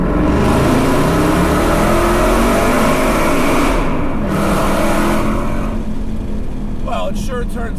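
A 710hp 2019 Roush Stage 3 Mustang roars at full throttle, a loud sustained engine blare that holds for several seconds, then eases as a voice speaks near the end.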